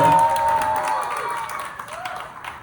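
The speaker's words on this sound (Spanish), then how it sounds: "un aplauso para Daniela, por favor" An audience at a dance conversation panel applauds a judge named Daniela, clapping and a few cheers swelling at the start then thinning and fading, with a voice briefly audible early on.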